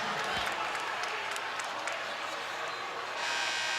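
A basketball arena crowd at a Big 12 men's game between West Virginia and Kansas State roars and murmurs in a steady wash of noise, with scattered claps and shouts as fans call for a foul.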